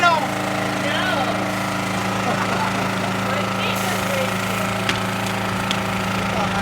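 A motorized sugar cane mill starts up outdoors during batch syrup making in Lower Alabama, giving a steady loud mechanical drone with rattling and knocking throughout.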